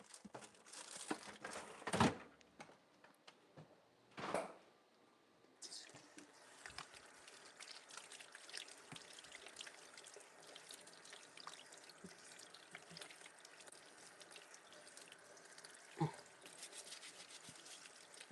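A lime is rinsed under a running kitchen tap at a sink, with a couple of louder splashing and crinkling bursts early on, then a steady close wash of flowing water.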